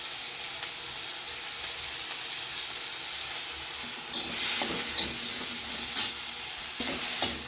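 Tomato with ginger paste and a little garlic paste sizzles and fries in a pan, a steady hiss that grows louder and crackles as it is stirred; no talking.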